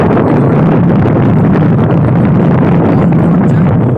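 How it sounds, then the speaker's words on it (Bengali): Strong sea wind and roaring ocean waves on a beach make a loud, constant broadband rush with no breaks, filling the whole stretch without any voices. "হাওয়া এবং গর্জনের আওয়াজ আপনি নিশ্চয়ই শুনতে পাচ্ছেন।"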